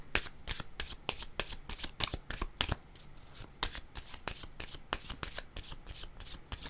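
Tarot cards are shuffled in a fast run of crisp riffling bursts and snaps, close and fairly loud, with brief pauses between bursts and no speech over them.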